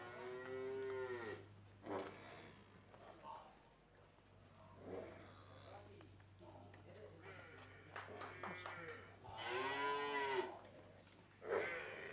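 Murrah buffalo on a dairy farm in Maharashtra give several deep, drawn-out moos at intervals, some close and loud, over a steady low hum with scattered background voices.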